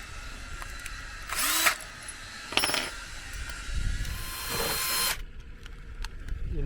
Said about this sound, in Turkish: 8'lik matkapla şimdi vız vızla tortuları alacağız